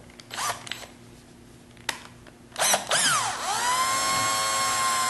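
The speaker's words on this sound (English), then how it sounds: "we'll take our screw with the drill" A power drill drives a screw into the end of a rod, with a few short bursts followed by a sustained, loud whirring that rises and then holds a steady pitch.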